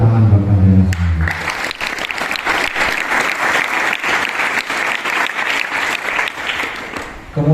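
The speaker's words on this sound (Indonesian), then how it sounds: "Tepuk tangan buat kalian semua." Sustained applause from a crowd of pesantren (Islamic boarding school) students during a police chief's visit, loud and dense clapping filling the whole stretch after a brief voice at the start.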